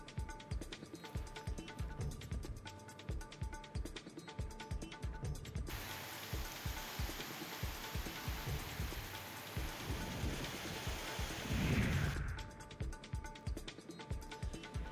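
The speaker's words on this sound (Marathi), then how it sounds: "बांदा शहर आणि परिसराला चक्रीवादळासह मुसळधार पावसानं झोडपून काढले" Heavy unseasonal rain with a cyclonic storm pours steadily throughout in Banda, a dense hiss with rumbling bursts, swelling louder near the end before easing back.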